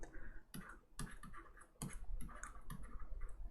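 Typing on a computer keyboard, clusters of close, crisp key clicks in uneven bursts with short pauses between them, quiet overall and without speech.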